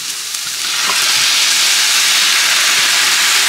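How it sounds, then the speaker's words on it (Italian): White wine hits a hot risotto pan of leeks and pumpkin, bursting into a loud, steady steam hiss and sizzle that swells after the first half second and holds strongly throughout, with no talk over it. "prima lo facciamo soffriggere un po', poi lo affoghiamo un po' nel vino bianco"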